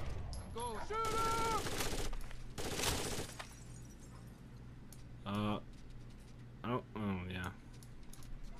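Gunfire in Tom Clancy's Rainbow Six Vegas 2: two loud, dense bursts of rapid shots close together early on, then quieter scattered sounds while a person talks over game voices.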